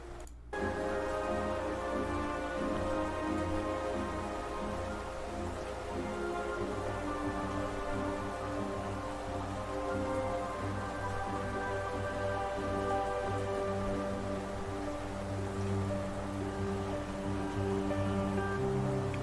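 Steady rain ambience from the City of Tears area soundtrack of the game Hollow Knight, a continuous even wash of falling rain with a soft tonal music bed, no voices.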